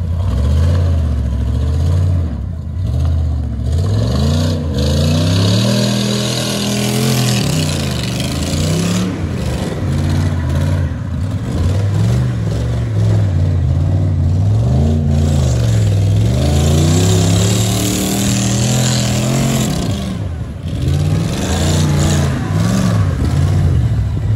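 A 2020 Ford F150 EcoBoost pickup revs hard while a wheel spins. The engine note climbs and falls in repeated surges, loud and close, with no break for about twenty-four seconds.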